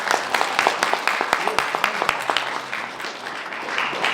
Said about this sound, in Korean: 귀한 서평을 해주실 우리 목사님을 큰 박수로 맞이하겠습니다.